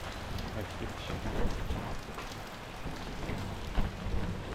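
Steady rain patters across a surface in a street in Yogyakarta, Indonesia, throughout, a dense even hiss with a few slightly louder drops, no voices over it.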